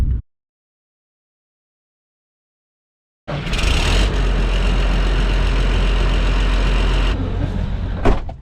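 A John Deere 9520 tractor hitched to a disc warms up, its steady low engine drone starting abruptly after a few seconds of silence and running loud and continuous to the end.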